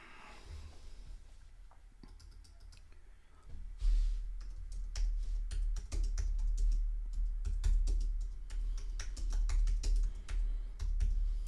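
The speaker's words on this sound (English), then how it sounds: "I was typing something." Computer keyboard typing runs throughout as a steady patter of close, distinct key clicks, starting quieter and growing louder after a few seconds, set over the faint background sound of a live Everton versus Liverpool football match broadcast, with no talking.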